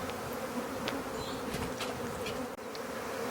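A swarm of honey bees that has left its hive buzzes as a dense, steady drone throughout, close and continuous, with a few individual bees whizzing nearer past it.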